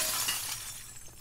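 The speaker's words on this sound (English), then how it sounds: "Oh, you just break the glass." Glass shatters in The Last of Us Part II, a close, bright crash that spills into a brief trail of tinkling shards, fading within about a second, with no voices.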